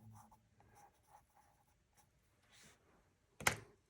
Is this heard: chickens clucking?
no